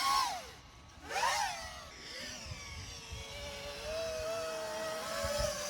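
An FPV drone with a bent motor bell whines as its motors spin up fast in a yaw rotation, the pitch sweeping up and down in the distance over steady outdoor background noise.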